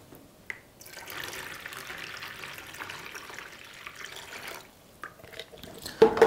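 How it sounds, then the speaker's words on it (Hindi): A second jug of water is poured into a bowl with a Moto e32s phone submerged for a water test; a faint, steady trickle and splash builds, then tapers into scattered drips and small knocks. "और यहाँ पे एक जग पानी और डाल देते हैं।"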